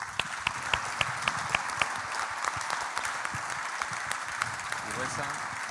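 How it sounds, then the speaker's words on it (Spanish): An audience applauds dancers at a cultural heritage event, a broad steady wash of clapping with a few sharper claps standing out near the start. "Fuerte aplauso para los bailarines Hugo y Alejandra."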